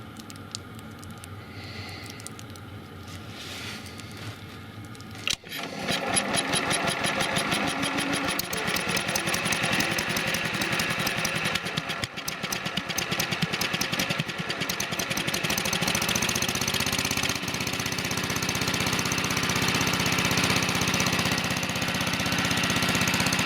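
A small carbureted gasoline engine sputters to life after about five seconds of quiet, then keeps running loud and close with a knocking, uneven patter that steadies toward the end.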